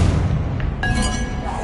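Confringo explosive spell going off in Hogwarts Legacy, a sharp blast that cracks out over a dense, rumbling game soundscape and then rings briefly.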